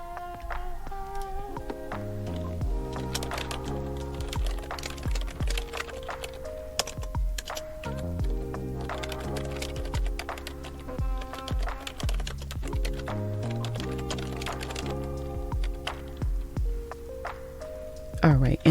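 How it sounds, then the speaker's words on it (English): Typing on a computer keyboard, with quick clusters of key clicks over a continuous musical background that carries on throughout. "So we're going to type that in."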